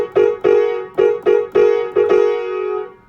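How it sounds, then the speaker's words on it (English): A piano strikes a three-note cluster on the black keys six times in a jingle-bells rhythm, two short hits, a longer one, two short, then a final held chord that fades, close and alone. "So if you were to play all 3 black notes together with these three fingers, it would sound like this."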